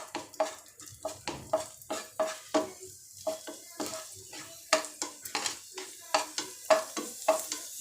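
Raisins fry in a pan under a rapid, regular series of spoon scrapes and light metallic taps, each stroke over a steady sizzle, close and clear, with no voice.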